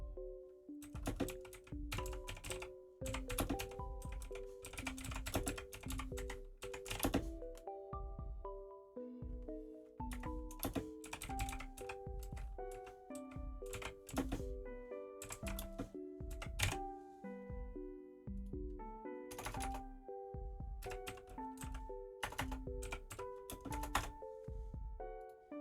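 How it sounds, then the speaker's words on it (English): Computer keyboard typing a Discord message, a long run of quick clacking keystrokes in bursts, close and clear over a steady musical background. "Sorry, I'm typing a Discord message right now."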